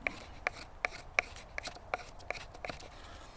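A stainless steel knife shaves thin curls off a piece of wood, a quick series of close, crisp scraping strokes repeating about every half second.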